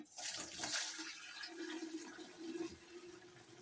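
Homemade holiday eggnog is poured into a pitcher, a steady splashing, gurgling stream of liquid that runs for several seconds at close range.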